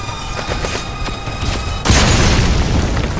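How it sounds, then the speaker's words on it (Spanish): Bomb blast in the stealth action game Metal Gear Solid V: The Phantom Pain, a loud broadband boom erupting abruptly midway and sustaining as a rumbling roar after quieter game ambience with scattered thuds. "¿Ha explotado mi bomba?"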